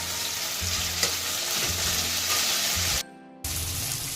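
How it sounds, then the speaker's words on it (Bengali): Spice paste for a Bengali crab bhuna fries and sizzles loudly in a pan under continuous stirring, with the dense crackle dropping out briefly before resuming. "মশলাটা আমি খুব ভালো করে 5 মিনিট ধরে কষিয়ে নিলাম"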